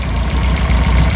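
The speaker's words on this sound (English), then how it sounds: "I'll just show you it running so you can hear it" A small engine with freshly changed oil runs steadily at idle, a loud, close, even low rumble with slight rhythmic pulsing throughout.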